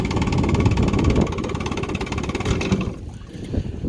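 A 1959 Evinrude Golden Jubilee Sportwin 10 HP outboard motor idling on a pond: a steady, close, low rumbling putter that dips and falters near the end.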